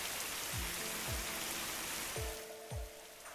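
Steady rain falls in the Fate Grand Order video game, a continuous broadband hiss that fills the scene, with a few dull low thumps underneath and no voices.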